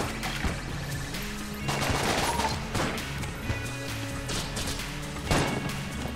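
Gunfire from the trick gun in Enter the Gungeon, a run of sharp repeated shots with crashing impacts over a steady game soundtrack, fairly dense and moderately loud throughout.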